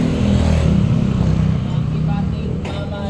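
Motorcycles rumble and rev through busy street traffic, a loud continuous engine drone close by with a vehicle seeming to pass, and a voice speaking over it.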